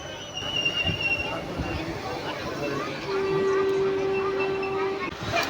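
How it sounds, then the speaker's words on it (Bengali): A train rumbles in close by at a station with a steady hum and a long horn-like tone, crowd murmur and talk running underneath. "ডাউনের ট্রেন চলে এলো"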